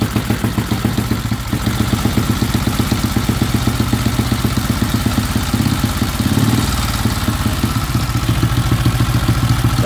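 A 1927 Sunbeam Model 6 500cc single-cylinder motorcycle idles close by, a steady loud rhythmic chuffing with mechanical clatter that runs the whole time, alone with no voices.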